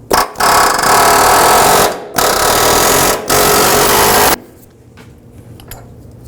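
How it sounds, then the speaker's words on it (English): Air hammer pounding stuck front lower control arm bolts on a 2005-15 Nissan Xterra, three loud, sustained bursts of rapid hammering with short pauses between, then a quieter tail of faint workshop clatter. "I'm just going to use an air hammer"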